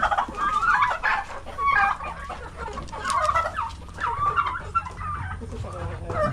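Poultry calls in a backyard pen where turkeys are kept, a mix of gobbling and clucking bursts repeating through the clip, fairly close, with faint low background noise.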